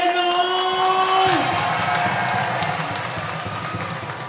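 An outdoor crowd at a concert at Safari World claps and cheers for a band member. Sustained applause swells as ringing sustained musical tones fade out.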